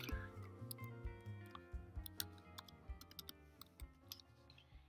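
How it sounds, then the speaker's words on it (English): Rapid clicking of keys on a computer keyboard as an email address and password are typed, quiet and close, in irregular bursts of taps with short pauses. "You're going to need to type in your email address, and your password."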